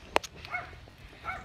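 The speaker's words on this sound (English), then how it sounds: "When the dog is barking, he has three dogs" A dog gives a sharp single bark up close, followed by a couple of faint yips against a quiet outdoor background.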